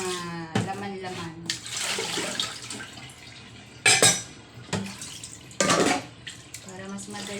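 Dishes being washed under a running tap abroad, steady splashing water with clinks of plates and cutlery and a few louder bursts of rinsing, while someone talks over it.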